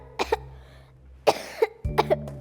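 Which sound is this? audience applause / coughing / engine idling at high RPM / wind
coughing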